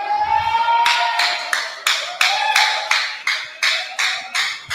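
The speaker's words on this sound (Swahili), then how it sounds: "Pigeni makofi tafadhali." Audience members clap in a steady, evenly spaced rhythm at a CVE festival gathering in Mombasa, with about a dozen sharp, close claps over a sustained tonal voice-like drone.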